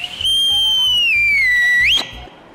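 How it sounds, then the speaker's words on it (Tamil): A person whistles one long, loud note with the tongue folded, the pitch sliding slowly downward and then sweeping sharply up before cutting off. "இது நாக்க அப்படி மடிச்சு ஒரே விசில் மட்டும் அடிங்க"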